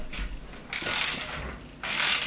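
An engine block bolt is tightened with a ratchet wrench on a 1.6 VTEC engine. It gives two bursts of quick, close clicking ratchet strokes separated by a short pause, with no voices.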